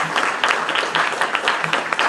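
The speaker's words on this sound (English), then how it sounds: "So let's give all of our chefs a round of applause." Guests at a tasting dinner give the chefs a round of applause, a brief burst of steady clapping from a crowd at moderate loudness.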